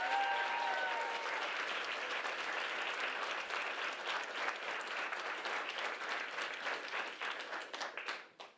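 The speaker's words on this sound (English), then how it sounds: "One more big round of applause." Audience at a spring speech showcase giving the finalists a big round of applause, dense sustained clapping from a crowd that holds steady and then tapers off and stops near the end.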